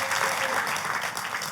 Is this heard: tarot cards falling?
no